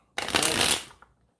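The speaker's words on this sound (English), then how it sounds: "And I just shuffled that backwards." A single quick riffle of a tarot deck, a close, crisp burst of fluttering cards lasting under a second, followed by a faint tap in an otherwise quiet room.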